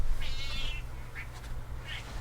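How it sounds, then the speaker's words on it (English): A house cat wanting to be let out gives three short meows, faint and somewhat distant over a low background hum. "my cat wants to get out"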